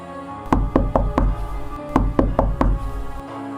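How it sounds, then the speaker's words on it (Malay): Knocking on a house door at night, seven sharp raps in two groups of four and three, loud and close over a low background hum. "Selepas aku solat isyak, tiba-tiba pintu rumah diketuk."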